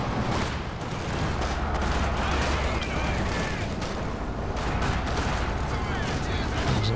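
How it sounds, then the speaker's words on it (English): Heavy mortar strike in Company of Heroes 2 during a 3v3 match on Port of Hamburg: dense, continuous barrage of booming impacts and gunfire rumbling throughout, mixed with game battle noise. "Isn't the heavy mortar strike again?"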